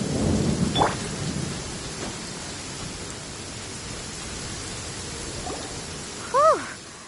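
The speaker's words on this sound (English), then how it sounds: "Thunder and lightning can be quite frightening." A thunderstorm in the Genshin Impact video game: a steady wash of rain-like noise with a deep rumble near the start. A voice-like chirp cuts in near the end.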